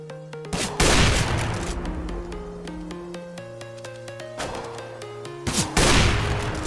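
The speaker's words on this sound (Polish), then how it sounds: "Flashbang." A flashbang grenade goes off in the Counter-Strike: Global Offensive video game, with two loud, sharp bursts several seconds apart over in-game music tones.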